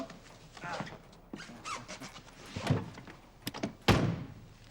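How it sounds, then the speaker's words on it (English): In a spy's gadget workshop, a door squeaks and thunks open under faint, muffled sounds of people moving about, with a sharper knock near the end. "Helps if you open the door."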